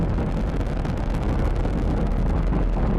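Falcon 9 first stage with nine Merlin engines at liftoff on a crewed Dragon launch gives a loud, continuous low roar and rumble, steady and broadband throughout with wind-like buffeting and no talk.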